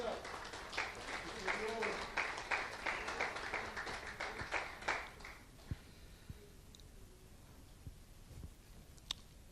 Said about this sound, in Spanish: eso merece otro aplauso fuerte para el Señor